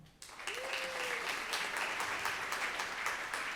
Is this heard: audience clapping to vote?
yes